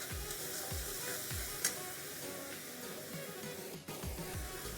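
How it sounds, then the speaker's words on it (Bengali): Poppy seed paste with green chillies fries in a pan, giving a steady close sizzle broken by a few scraping stirs and light clatters, with no voices. "পোস্ত বাটা দিয়ে আমি আবারও ভালো করে কষিয়ে নেব।"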